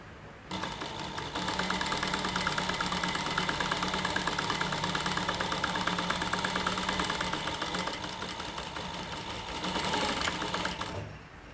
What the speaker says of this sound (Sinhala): මැෂින් එක හොඳට හුරු වුණාට පස්සේ ඔබ දෙපා එක එකවරම මහන්න.